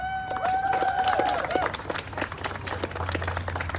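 Crowd clapping at an outdoor rally, a dense burst of applause that tapers into scattered claps, with some speech and a whistle-like tone at the start.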